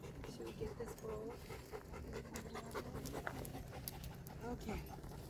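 Caucasian Ovcharka panting steadily and quickly at a dog park on a summer day, close and fairly loud, with a faint whimper or two and people talking nearby throughout.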